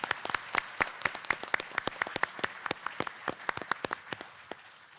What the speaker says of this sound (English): One more round of applause for Jane